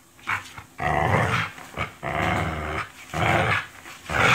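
A pit bull growling during play, with deep, rough growls coming in several close, sustained bursts separated by short breaths.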